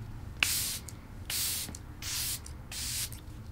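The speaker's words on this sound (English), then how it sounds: "This spray really gets your whole face." Scandinavia Bridal Setting Spray misted onto a face, four bursts of fine hissing spray, each about half a second long with short pauses and a light click of the pump, close and clear.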